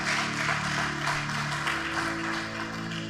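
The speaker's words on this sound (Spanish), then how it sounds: "Denle un aplauso a Dios." A church congregation applauds together in a steady wash of clapping that lasts throughout, with sustained musical tones held underneath.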